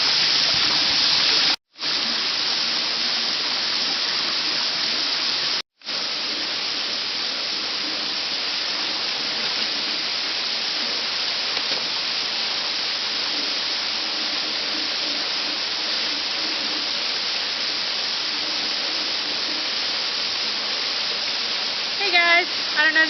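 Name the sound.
waterfall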